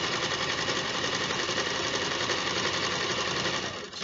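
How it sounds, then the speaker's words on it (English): A sewing machine stitches the cut edge of a car seat cover in one continuous, rapid needle chatter that is steady and close, easing off only at the very end. "I'm going to run that through the machine."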